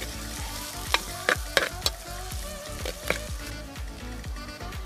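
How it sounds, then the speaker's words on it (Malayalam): Chopped tomatoes frying in a pan for a Kerala-style roasted-coconut fish head curry, with steady close sizzling and repeated scraping stirs of a spoon against the pan, no voices. "നമുക്ക് തക്കാളി ചേർത്ത് കൊടുക്കാം."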